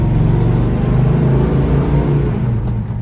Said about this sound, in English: we're gonna give you an idea what it sounds like. We're revving a little bit for you.